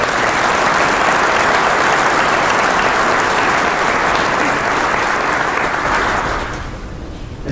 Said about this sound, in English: let's give them a round of applause for their hard work